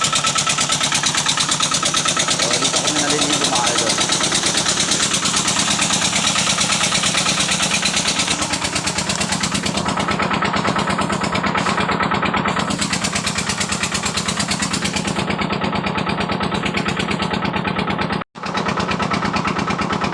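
A diesel engine drives a water pump for an outdoor shower amid rice paddies in Pamplona, running steadily at idle throughout with a constant low drone and no voices.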